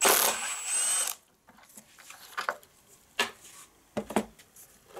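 A nut is worked off the wheel axle of an MTD lawn mower, with a burst of power-tool whir at the start followed by scattered metallic clicks and clanks of the tool on the hub.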